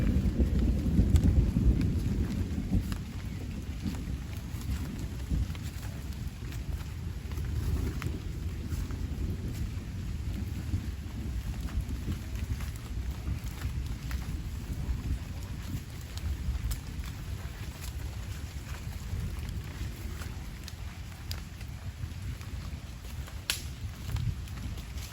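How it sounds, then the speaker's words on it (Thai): Deep rumbling thunder rolls heavily at first in a forest, then settles into a steady wash of rain and low storm noise. "ฟ้าร้องดังมากเลยนะ"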